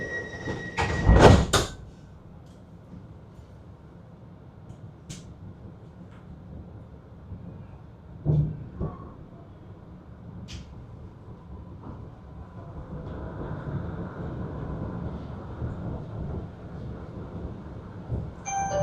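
A Sydney light rail tram arrives at a city stop with a low, rising rumble of wheels on track, a few sharp clanks and squeals, growing steadily louder toward the end.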